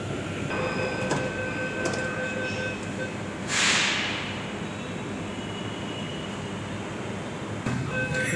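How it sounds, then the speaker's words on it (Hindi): Empty Delhi metro train running between stations toward Jafrabad, a steady low rumble and hum of the carriage with a brief hissing swell partway through and faint rattles, continuous and close. "मेट्रो पूरी खाली चल रही है।"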